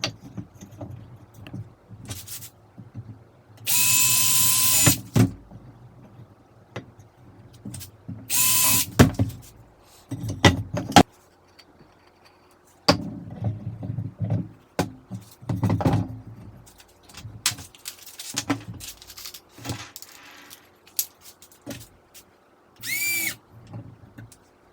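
A power drill drives 2-inch screws into wood during a truck camper conversion, sounding in several loud whirring bursts of a few seconds each, separated by pauses, clicks and handling noises, close by.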